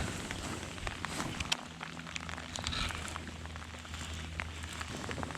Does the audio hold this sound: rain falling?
yes